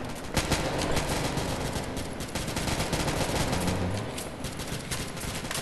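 Dense rapid gunfire in the mobile shooter game Modern Strike Online, continuous loud bursts of automatic shots filling the whole stretch with little pause.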